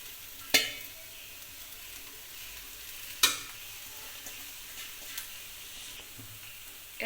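Rice stir-fried with green chillies makes a quiet, steady frying hiss, with two sharp clinks of a spoon against the pan and a few softer stirring scrapes.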